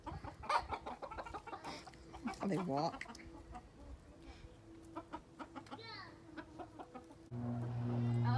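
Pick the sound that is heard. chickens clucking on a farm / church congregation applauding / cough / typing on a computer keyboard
chickens clucking on a farm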